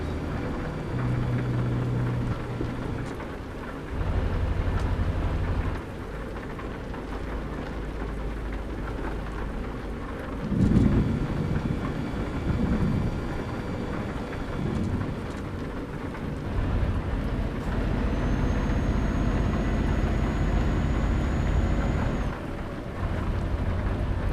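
Steady heavy rain and low rumbling thunder from a thunderstorm in Euro Truck Simulator 2, a continuous wash of rainfall with a deeper roll of thunder near the middle, no voices.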